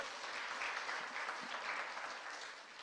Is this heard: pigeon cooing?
no